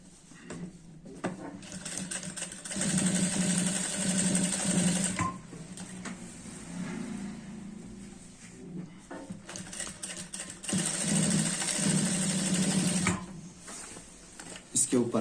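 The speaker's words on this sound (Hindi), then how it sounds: "इन लुपियों पर इस तरह से सिलाई लगानी होगी।" Sewing machine running in bursts as it stitches belt loops onto a pair of trousers, with two long steady runs of whirring stitching separated by pauses while a person speaks.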